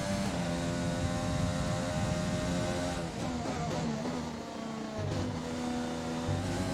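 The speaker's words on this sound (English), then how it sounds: "So a lot of the cars coming in here." Formula 1 race cars in the F1 2020 game pit lane, their high engine whines holding steady and loud with shifting pitch as several cars pass close by, with no voices.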